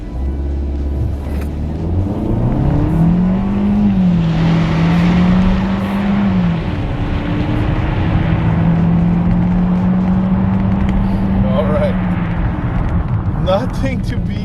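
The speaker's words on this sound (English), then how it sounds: "now let's test the acceleration. We'll see what this thing's got." A 2021 Kia K5 GT-Line AWD sedan accelerates hard, its engine a loud, steady drone that climbs in pitch, dips briefly, then climbs again across the pull.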